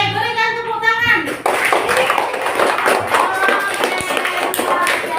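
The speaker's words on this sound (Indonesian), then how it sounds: "Oke, berikan tepuk tangan." A classroom of children claps for several seconds, dense and close, with kids' voices chattering through the applause after a brief spoken lead-in.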